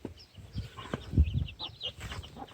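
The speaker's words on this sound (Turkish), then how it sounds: "bir sürü civcivler" Many chicks cheep in a village setting, with soft, scattered peeping mixed with low rustling and handling noises close by.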